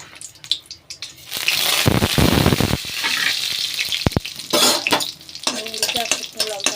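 Dry red chillies and fennel seeds sizzle loudly in hot oil in a wok, with a steady frying hiss broken by stirring scrapes and a few sharp clinks of the utensil against the pan.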